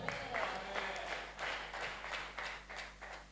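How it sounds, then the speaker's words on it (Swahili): A congregation at a church service claps hands in uneven bursts of many hands together, fairly faint and roomy, with a low hum underneath. "Pigieni makofi"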